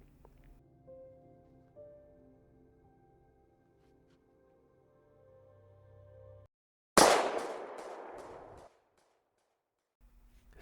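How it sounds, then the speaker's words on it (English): A single revolver gunshot in the Resident Evil game, a sharp loud blast that cuts through quiet music and rings out in a decaying echo for about two seconds before silence. "the echo of the gunshot ring through the mountains from the revolver he placed in his mouth"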